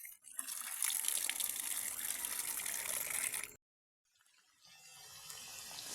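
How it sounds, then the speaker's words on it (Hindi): Cut potatoes for fries are washed under a running kitchen tap: a steady gush of water about three and a half seconds long, a brief silence, then quieter splashing and flowing water as the tap resumes. "आलू जो है मैंने काट दिया, अभी चलते इसे धोते"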